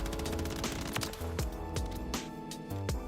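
Light machine gun firing in Warzone 3.0, a rapid sustained burst of close, loud automatic shots with a steady rhythm and a few sharper cracks, no voices.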